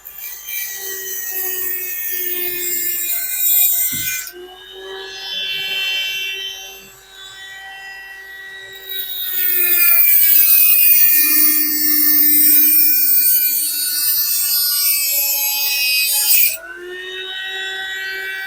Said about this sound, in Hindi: मेटल जो काटते हैं, जितनी हाई आरपीएम में चलाएंगे उतना अच्छा है, उतनी जल्दी काटेगा